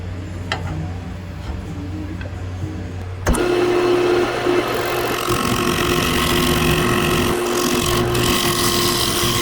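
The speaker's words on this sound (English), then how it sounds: "So I'm gonna go with the scraper one or two more times up here." A steady, droning scrape of a scraper shaving corkscrew willow on a spinning wood lathe, loud and continuous after a sharp start, with motor hum underneath.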